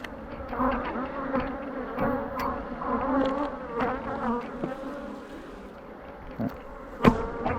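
Honeybees buzz in a dense, wavering drone during a hive inspection, close and continuous with a few soft knocks of comb and frames.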